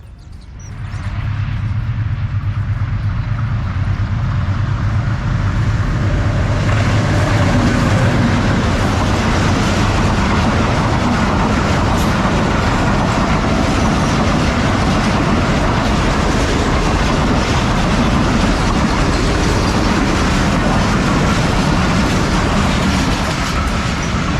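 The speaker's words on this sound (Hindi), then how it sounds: "15 अप कराची एक्सप्रेस कल शाम 6 बजे कराची से चली हुई है, पास कर रही है ज़रीफ़ शहीद" The 15 Up Karachi Express passes through Zarif Shaheed railway station at good speed, a loud, sustained roar with rhythmic clickety-clack of wheels on rail throughout.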